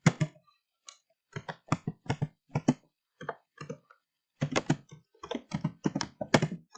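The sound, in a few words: typing on a computer keyboard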